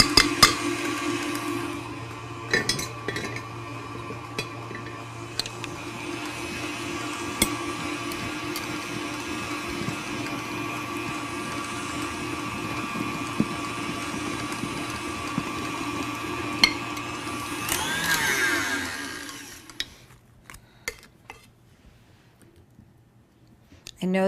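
A stand mixer whirs steadily as it whips Italian meringue buttercream while butter goes in a couple tablespoons at a time, a constant mid-pitched motor hum with occasional clicks that winds down and stops near the end.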